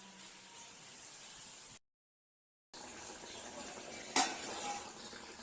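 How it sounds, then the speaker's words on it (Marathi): Chapati cooking in a pan makes a low, steady frying hiss, broken by a short gap of silence and one sharp clink partway through. "माझी पोळी शिजत आहे"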